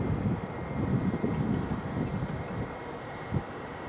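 An airplane lands at Phoenix Sky Harbor airport, heard as a steady, moderately loud engine roar with wind buffeting the microphone and a small thump near the end.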